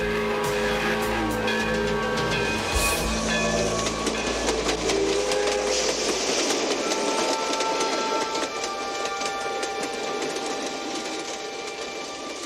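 A train passing in a TV episode scene, a loud sustained rumbling roar with screeching metallic tones and shifting engine noise that runs the whole time, then eases slightly toward the end.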